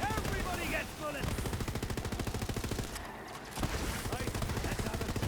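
Rapid automatic gunfire from Borderlands 3 in steady, fast bursts for several seconds, with a brief gap near the middle before the shooting resumes, loud and close.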